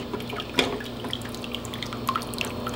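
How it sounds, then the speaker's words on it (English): Water trickles and drips from a lifted lid back into a cooking pot of pork chops, close by: a steady light patter marked by a few distinct louder drops, with nobody talking. "letting all that water drain back in so it doesn't get all over the place"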